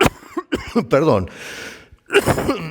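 A man coughs several times in short bursts between stretches of Spanish speech during a sermon, fairly close and loud.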